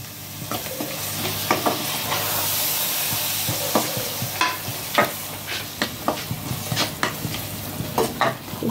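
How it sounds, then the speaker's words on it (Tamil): Tomatoes fry steadily in a hot pan while a utensil scrapes and taps the pan in irregular strokes, close up and without talking. "அதையும் சேர்த்து கொஞ்ச நேரம் பொரிய விடலாம்."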